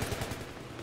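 Rapid gunfire in the video game Battlefield 3, a burst of sharp repeated shots with a low thumping pulse at the start, then dense continuous battle noise for under a second with no talk.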